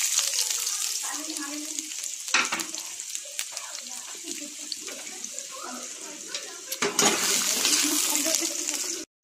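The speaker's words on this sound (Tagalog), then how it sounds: "Gigisa na natin ng ating sibuyas, bawang, luya." Onion, garlic and ginger sautéing in a pan for a mussel dish, a continuous sizzling hiss with stirring scrapes and a couple of louder clanks, briefly cut off at the end.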